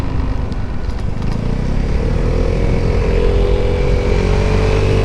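A motorcycle rumbles past a rider on a Vespa 300 GTS scooter, loud low engine drone swelling steadily and holding close throughout, with no voices.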